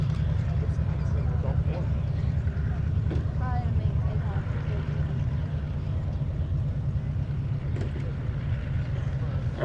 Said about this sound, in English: Now what they're doing is they're warming engines up